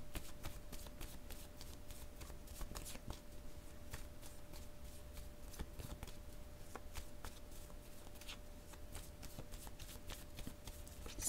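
Tarot cards are shuffled continuously by hand for one draw, a steady, soft riffling and rustling that stays quiet and close throughout with no pauses.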